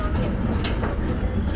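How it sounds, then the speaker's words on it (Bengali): Passenger train rolling and slowing toward a stop, a steady close rumble of carriage noise with faint rail clatter heard from inside the coach. "এই যে এখন ট্রেন থামবে।"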